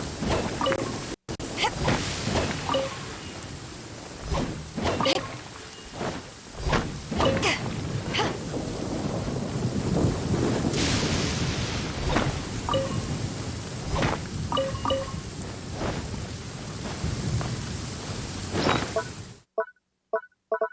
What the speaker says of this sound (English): rain is a precious source of drinking water